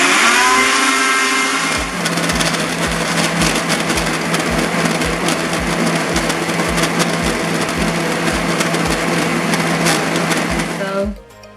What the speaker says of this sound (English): Now I'm just gonna put the blender on.